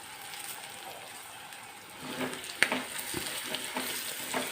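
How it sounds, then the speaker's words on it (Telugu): Chicken gizzard fry cooking in a clay pot over a gas flame, a soft sizzle with scraping stirs that picks up midway, including a sharp clink, close and quiet. "ఈ గ్రేవీ అంత దగ్గరికి పడిపోయేంత వరకు మనం ఫ్రై చేసుకోవాలి"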